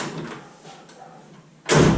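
A quiet stretch of faint rustling, then a single loud, solid thud of an Edsel car door being shut close by.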